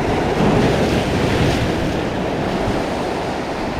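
Steady roar of surf with wind buffeting the microphone, continuous broadband wash of water throughout, no voices.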